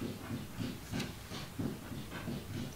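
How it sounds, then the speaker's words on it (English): A cat scratching at a door, faint, rhythmic bursts of clawing repeating roughly every third of a second against a quiet hiss, with no voices. "Hear my cat scratching at the door."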